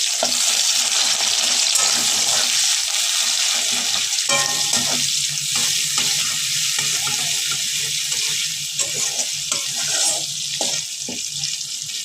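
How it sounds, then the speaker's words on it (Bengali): Onions and green chillies fry in hot oil in a kadai, a loud, continuous sizzle with occasional stirring scrapes throughout. "পেঁয়াজ আর কাঁচা লঙ্কা ভাজা হচ্ছে।"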